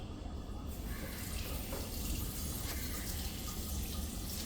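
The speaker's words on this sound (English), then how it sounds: "Try to wash your knife this way, otherwise you might both injure your sponge and yourself." A kitchen knife rinsed under a running tap, with steady hissing water splashing into a sink and faint clinks of handling, continuous and moderately quiet throughout.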